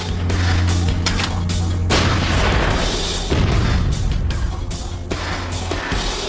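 Archer self-propelled artillery gun firing, loud booming blasts with heavy low rumble under continuous dense noise, several strong impacts across the stretch.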